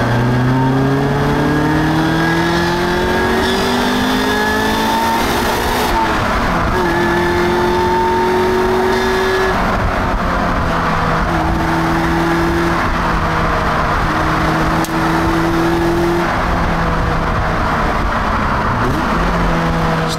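A Honda Accord's H22 engine revs hard and steadily, pitch sweeping up and down through the gears with loud, close engine drone and no talk.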